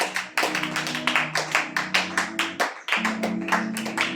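A church congregation claps together in acclamation of Jesus, a steady run of sharp, close handclaps over a sustained hum of music, pausing briefly near the end before the rhythmic clapping resumes.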